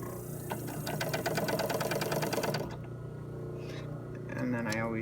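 A blind stitch sewing machine runs slowly through fabric with a steady rapid mechanical chatter for a few seconds, then stops, leaving a low hum and faint handling noises.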